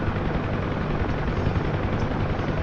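A UN Huey helicopter flies at low speed, its rotor and turbine producing a loud, steady, dense throb that fills the whole clip without pause.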